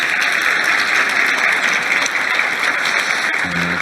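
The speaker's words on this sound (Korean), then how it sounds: "박수 한번 주십시오." Audience applauding at a formal Korean industrial-policy ceremony, greeting introduced local government officials; dense, steady clapping fills the room throughout with no voices over it.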